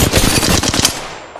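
Rapid automatic gunfire in the battle royale game Apex Legends, Flashpoint mode: a loud, close burst of about eight quick shots in steady rhythm, then a short fading tail.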